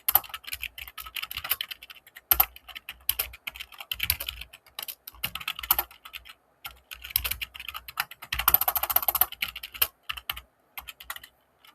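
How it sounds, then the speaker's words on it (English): Code is typed on a computer keyboard in steady, close, rapid bursts of key clicks separated by short pauses, with a denser flurry of keystrokes toward the end. "Well, I'm gonna write down the basic code first."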